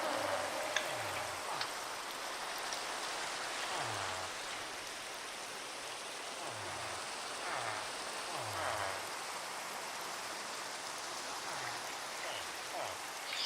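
Steady rain in a Minecraft video game pattering across a surface, a continuous even hiss with scattered droplet ticks, no voices.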